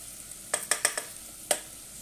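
Chicken and vegetables for egg fried rice being stirred in a hot pan, a quick cluster of sharp utensil clacks against the metal over a faint sizzle, then one more clack, with no voices.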